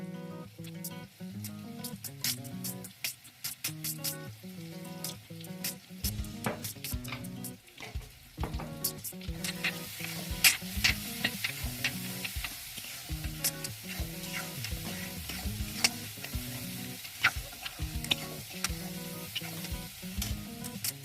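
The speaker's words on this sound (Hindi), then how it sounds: "थोड़ा देर के लिए इसको भून लीजिए, इसका कच्चापन चले जाए।" Masala sizzles steadily in a pan while a spoon scrapes and stirs it, the soft frying hiss continuous with irregular clinks and scrapes, close and quiet, no talking.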